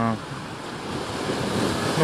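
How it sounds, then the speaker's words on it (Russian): Ocean surf rolls in at the end of a bay, a broad steady wash of waves with some wind rumble, moderately loud and rising slightly toward the end. "А вот это, ребята, океан."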